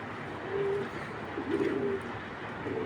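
Racing pigeons kept at home coo softly in a few short, low calls over a quiet background hum.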